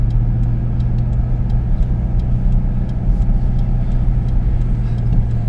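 A Mitsubishi L200 pickup truck on oversized wheels drives along with a steady, loud low engine and road rumble, heard from inside the cab with no talking.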